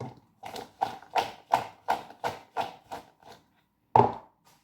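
A knife cuts an apple on a board, about a dozen quick, evenly spaced chopping knocks that fade slightly toward the end, then a short pause and one last firm chop.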